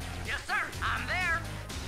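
A dog barks and yelps a few times in Command & Conquer: Red Alert Remastered, short high cries standing out over a low game rumble.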